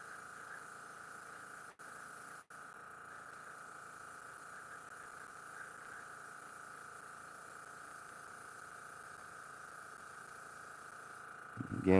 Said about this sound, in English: let's go ahead and spray our model down and see what happens